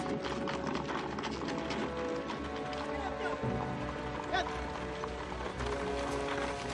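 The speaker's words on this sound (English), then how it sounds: "The horses." Horses running in a hurried rush near a farm barn, steady hoof clatter mixed with commotion and a dense background of music and noise throughout.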